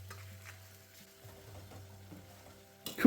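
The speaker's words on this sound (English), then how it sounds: "Once again, we're going to give it a good mix through." A chicken tikka and mushroom balti curry gets stirred in a pan, with quiet scraping and soft sizzling over a low hum, then a louder clatter right at the end.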